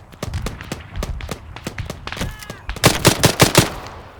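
Gunfire in the Arma 3 video game, heard as loud sharp rifle or machine-gun shots, first spaced single cracks, then a rapid burst of closely packed shots toward the end.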